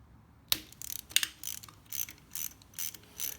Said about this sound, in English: I'm gonna remove these two bolts right here to separate this bracket.